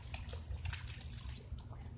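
Water trickling and splashing softly while a toddler plays in mud, a faint continuous liquid patter with small irregular drips over a low background rumble.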